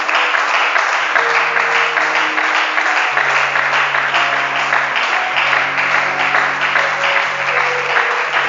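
A church congregation claps steadily through the whole stretch, loud and continuous, while sustained keyboard or organ chords play underneath.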